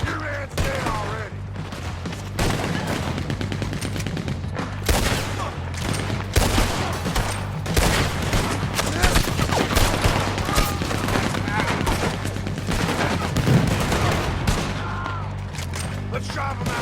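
Dense gunfire rings out during a Red Dead Redemption 2 shootout, with rapid overlapping shots and bursts running steadily for the whole stretch over a busy game soundscape, with some voices mixed in.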